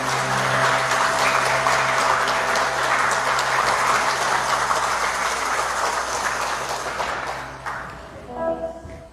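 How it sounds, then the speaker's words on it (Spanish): A church congregation at a Sunday service applauds in a long, dense burst of clapping mixed with a sustained tonal hum, fading toward the end as a voice briefly speaks. "Dale un aplauso al Señor"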